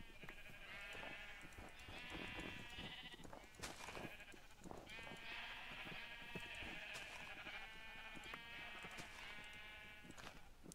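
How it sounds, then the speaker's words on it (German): Sheep in Minecraft bleat over and over, several overlapping calls in loud, wavering bursts with short gaps, close by and dominating. "weil die Schafe so laut sind"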